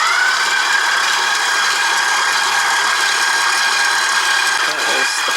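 A machine kneads pizza dough for a wood cook stove, giving a steady, continuous motor whir with a faint high whine that stays close and even throughout, with no pauses.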